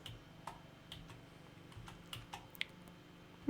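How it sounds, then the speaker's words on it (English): Computer keyboard arrow keys tapped while playing a kart racing game, a sparse, irregular series of soft clicks over a faint, quiet hum, close by with no voices. "Okay, it's just using the arrow keys."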